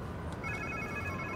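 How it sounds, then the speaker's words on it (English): A faint telephone ring in a Spider-Man 2 video game trills briefly over a low background hum, thin and electronic in tone. "Sounds like somebody's phone."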